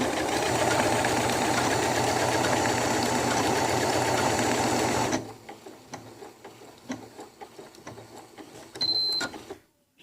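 An Elna 680 sewing machine darns with rapid back-and-forth stitching, a loud, even mechanical chatter lasting about five seconds. It then stops, leaving quiet clicks and handling noises.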